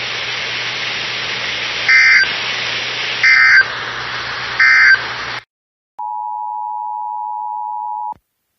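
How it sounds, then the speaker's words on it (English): A NOAA Weather Radio warning alarm device sounds a loud, steady, buzzy data tone interrupted by three short bursts. After a brief pause, a long, pure steady tone follows and then cuts off abruptly. "This has been a test of the NOAA Weather Radio Warning Alarm device."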